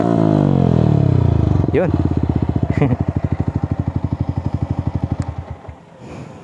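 A Yamaha XSR 155 motorcycle with its stock elbow cut and an aftermarket muffler revs loudly up close, then drops into a rapid, lumpy idle putter that slows and fades out. A brief voice is heard.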